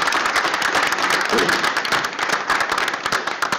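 An audience at a school board meeting applauds after a presentation, with dense, continuous clapping from a small crowd, close and moderately loud, thinning slightly toward the end.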